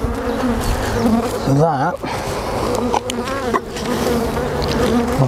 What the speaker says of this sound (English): I want to shake these bees off down here